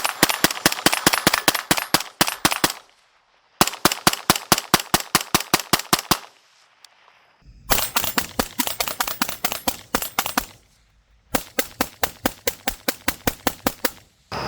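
Suppressed 5.56 rifle fired through an LMT Ion K suppressor: four rapid strings of sharp, evenly spaced shots, each burst of about eight to twelve rounds separated by short pauses, loud and close with no talking.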